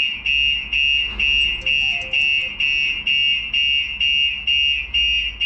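A StarLine S96 car alarm blares in a steady pulsing pattern, a shrill repeating tone cycling roughly twice a second, loud and close with no talking.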